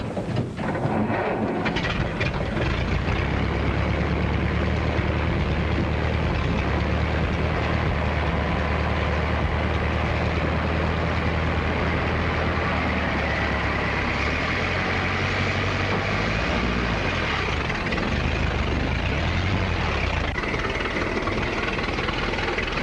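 An old car with a rumble seat starts up and settles into a steady, low rumbling run that continues unbroken for around twenty seconds.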